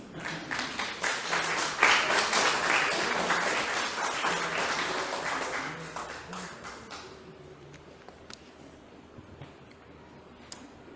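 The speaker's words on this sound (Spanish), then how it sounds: "Dale un aplauso a Cristo." Scattered applause from a crowd, building briefly then thinning out over several seconds, with a few isolated claps and taps toward the end.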